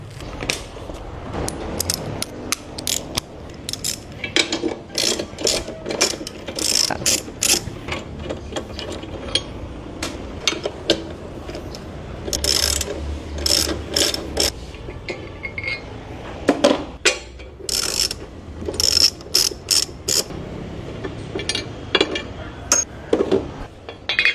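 Ratchet wrench clicking while a motorcycle tail light is installed, irregular bursts of close metallic ratcheting and clinks of parts and tools over about twenty seconds, with no talk.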